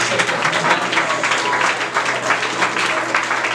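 A congregation applauds during a Sunday church service, steady crowded clapping close and loud throughout, with a few voices faintly mixed in.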